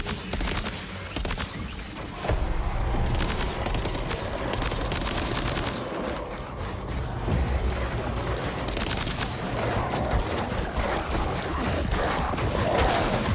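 Silenced assault rifle fire in Death Stranding 2: On the Beach, rapid muffled bursts of shots running almost continuously, steady and moderately close, amid game ambience with no talk.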